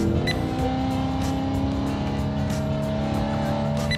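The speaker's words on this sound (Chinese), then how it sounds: "完全把 V8 NA 的声音给做出来。" BMW E90 M3 with a naturally aspirated V8 and an aftermarket iPE exhaust, roaring continuously and loud up close: a dense, sustained engine note with a strong rumbling low end and a steady rasp, held without a break.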